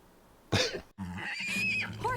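A cartoon horse whinnies in the animated series She-Ra and the Princesses of Power, with a sharp burst followed by a rising, wavering neigh, close and fairly loud.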